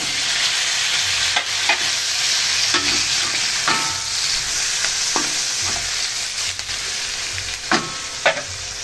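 Pork chop frying in a pan with garlic and onion for a creamy pork chop dish, a steady loud sizzle with several sharp stirring scrapes of the utensil throughout, no talk.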